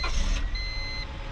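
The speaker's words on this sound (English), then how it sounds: "No other car sounds like that when it starts." A 2000 Honda Civic engine starts close by with a short rough burst as it catches, then settles into a steady idle with a thin high whine.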